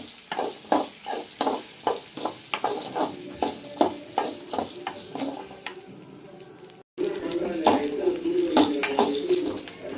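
Onion, garlic and ginger fry in a pan as the base for a crab gravy. A busy sizzle sits under a quick series of utensil scrapes and clacks against the pan. A short gap comes before the frying grows louder and denser.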